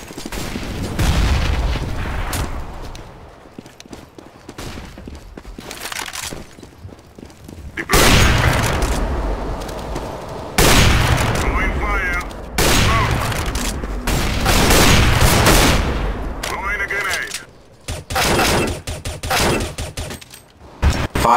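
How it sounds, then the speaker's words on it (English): Desert Eagle pistol shots ring out in a multiplayer shooter video game, loud and close, in clustered bursts of rapid fire separated by short pauses, with other gunfire mixed in. "Let me show you how to fire a deagle."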